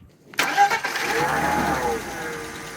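A Mercedes W124 E320 engine cranks and catches, then settles into a steady idle with a faint ticking of slight valve tap under the running sound.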